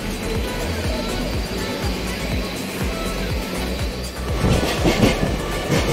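A Mumbai local train runs at night after leaving Vashi, its wheels clattering in a steady rhythm of close, loud rail joints, with a rising rush of noise toward the end.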